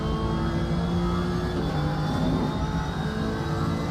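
A Ferrari GT3 race car engine in the racing game Assetto Corsa Competizione drones steadily at high revs at Zolder, a continuous loud mechanical roar with no voices.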